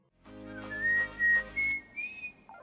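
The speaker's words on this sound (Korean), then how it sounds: "굉장히 비싼 휘파람을 쓴 거네요" A melodic whistled line from a K-pop song, sung over a soft musical backing, with several sustained notes rising in pitch across a few seconds, fairly quiet and without any talking.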